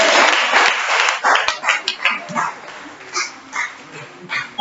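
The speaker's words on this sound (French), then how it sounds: "Est-ce qu'on peut acclamer le Seigneur?" Church congregation at a French-language service cheering and applauding, loud crowd cheers and clapping at first, then fading into bursts of excited shouts and scattered claps.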